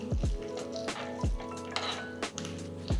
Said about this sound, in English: Pour this aromatic tempering over your chutney